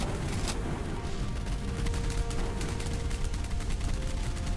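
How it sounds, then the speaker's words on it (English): Naval combat in the video game Boat Crew: bursts of gunfire crackle in rapid, uneven volleys with occasional booms, a dense, moderately loud battle din running continuously. "Explosions everywhere."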